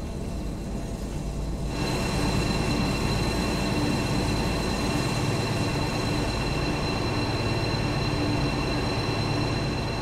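A BR 218 diesel locomotive hauling a cement train through Altena station in the Train Sim World 5 game gives a steady, loud rumble of engine and rolling wheels that swells after the first two seconds and holds constant.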